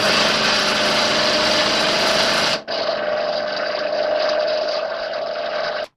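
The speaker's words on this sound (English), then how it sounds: "Now I'm getting ready to do the sawing." Rough sawing through a laminated red oak and bamboo bow: a loud, steady, buzzing cut that runs unbroken apart from one brief dip midway, then stops abruptly at the end.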